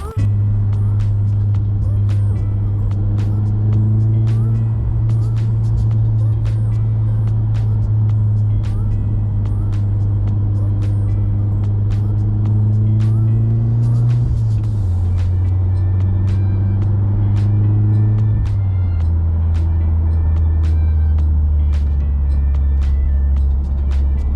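A Volkswagen Golf R with a slowly failing clutch pulls along country backroads, its engine droning steadily and close throughout, with the pitch dropping at two gear changes partway through.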